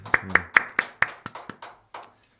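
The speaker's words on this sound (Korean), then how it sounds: "우리 다비타 교회에 오신 여러분을 박수로 환영하겠습니다." Clapping during a Sunday church service at Dabita church to welcome visitors: about ten distinct, close hand claps that start crisp and regular, then slow and soften until they stop.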